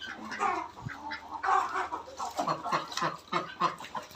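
Chickens clucking and calling close by while eating mixed feed in a backyard garden flock kept with ducks, a steady run of short overlapping clucks.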